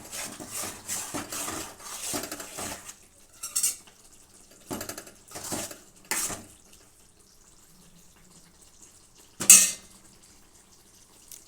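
Green chillies go into a cooking pot for tomato rasam, with a series of metallic clinks and scraping stirs in short bursts separated by quiet gaps, followed by one sharper clank near the end.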